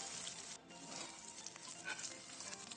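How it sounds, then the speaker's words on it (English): Curry leaves sautéing in hot oil for mutton pepper fry give a steady soft sizzle with faint crackle throughout, close but fairly quiet, with no talking. "Now going to add a handful of curry leaves. Now saute it nicely."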